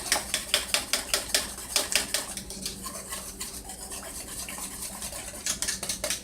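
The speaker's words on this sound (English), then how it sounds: "See how smooth I got it, but whisking it." Evaporated milk, whole milk and real butter whisked together in a pot for old-fashioned banana pudding, a quick run of rhythmic metal-on-pot scraping strokes, busiest at the start and end with a softer stretch between.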